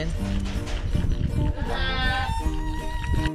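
Native goats on a goat farm bleat loudly and repeatedly nearby, several calls overlapping in a noisy pen while a person talks over them.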